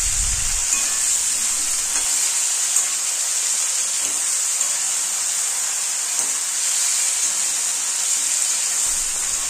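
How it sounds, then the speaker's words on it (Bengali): Potatoes and stalks cook in a pan while being stirred, heard as a loud, even steamy hiss that continues without break and carries no speech. "মাঝে মাঝে ঢাকনা খুলে নাড়াচাড়া করে দিতে হবে"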